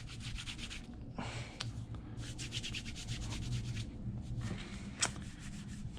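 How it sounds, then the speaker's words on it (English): A rag scrubs wax paste off a vintage wooden marking gauge in a workshop, making soft close rubbing strokes in irregular bursts with brief pauses, quiet overall. "use a different piece of rag to scrub some of that off"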